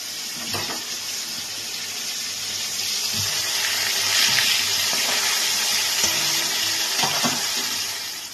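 A steady, dense sizzle of lote (Bombay duck) fish frying in hot oil in a wok, close and continuous, swelling slightly in the middle with a few light clinks.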